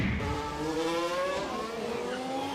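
A Formula 1 car at Monza locking up into the chicane, the engine note sweeping in falling harmonic tones as it brakes hard, fairly faint and heard alone.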